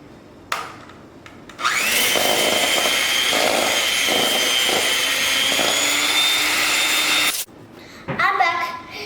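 An electric mixer whirs loudly for several seconds as it beats cookie dough after salt and baking soda go in, then cuts off abruptly. Brief handling sounds come before and after.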